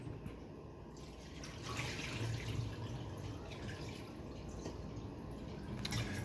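Rinse water is poured off soaked dal during washing, a faint steady trickle and splashing that runs throughout.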